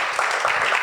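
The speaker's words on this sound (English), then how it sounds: "Want to give another round of applause for our VP." Audience applause rings out at a student association presidential debate, a steady wash of many hands clapping through the whole short stretch, fairly loud and close.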